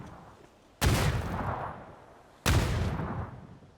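Two heavy gunshot blasts from a PUBG esports match, each a sudden loud burst followed by a decaying rumble, spaced roughly a second and a half apart with no talk.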